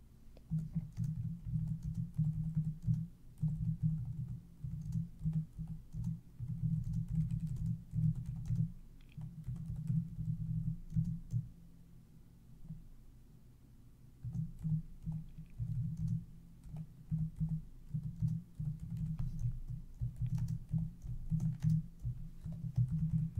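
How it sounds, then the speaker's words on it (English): Typing on a computer keyboard, close and continuous soft tapping that pauses briefly in places, with no voices. "Don't mind me tippy tapping in the background."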